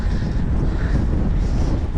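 Low, steady rumble of wind buffeting the microphone while riding near Colville, continuous and fairly loud with no voices.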